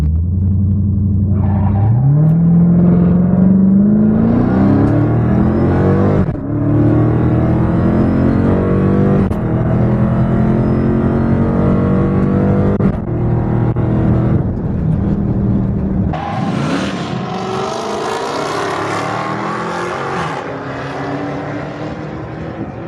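A Dodge Hellcat with a scat back shaker roars through a drag strip run at the Lone Star Mopar Fest, its loud engine climbing through gears with steady, close revving before fading into a broader wind-swept rumble.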